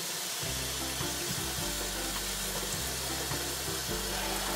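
Tap water runs steadily into a big pot, a loud continuous splashing rush with a low hum beneath it and no talking.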